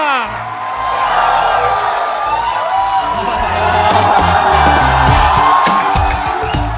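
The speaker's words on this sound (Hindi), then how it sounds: "तालियों के साथ स्वागत करिए कमाल के एक्टर दिव्येंदु शर्मा और प्रतीक गांधी का।" A loud live crowd cheers and whoops to welcome actors Divyendu Sharma and Prateek Gandhi, a sustained wall of shouting and cheering voices with applause mixed in, close and continuous.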